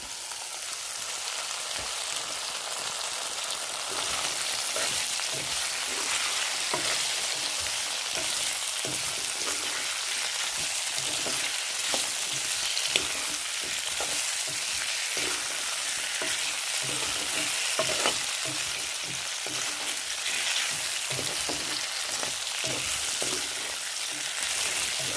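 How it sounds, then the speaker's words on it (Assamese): Cut potatoes fry in a hot pan for a long stretch, a dense constant sizzle broken by repeated scraping stir strokes, close and loud with no talking. "আৰু মই আলুখিনি এনেকৈ কাটি লৈছিলোঁ এয়া এতিয়া দি দিম আলুখিনি"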